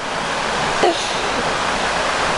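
River water flowing around a piece of wood weighted with a rock, a loud continuous broadband rush with a brief faint higher sound partway through and no talk.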